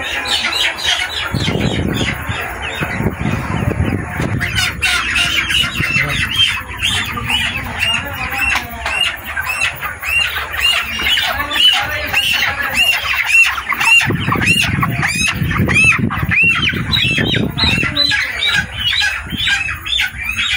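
Dense, loud squawking and clucking from a crowd of broiler chickens fills a poultry farm, continuous and chaotic, with bursts of flapping and scuffling throughout.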